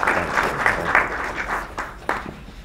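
A room at a press conference breaks into applause, a full burst of clapping that thins out toward the end to a few last scattered claps.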